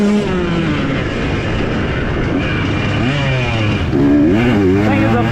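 A 2023 KTM 125 XC two-stroke dirt bike with throttle body injection ridden on a wooded trail, its engine buzzing loud and close, rising and falling in pitch through throttle blips and gear changes, with a rider talking over it.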